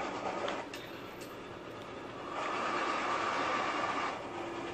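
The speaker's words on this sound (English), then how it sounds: "Don't you get run over by that train?" A train rolls along rails with a steady, loud rumble that swells midway and carries a faint rhythmic clatter of wheels, with no voices.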